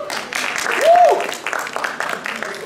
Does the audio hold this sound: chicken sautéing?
no